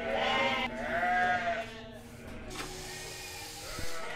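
Sheep and lambs on a British farm bleating close by, with two or three wavering calls in the first two seconds and fainter farmyard noise after.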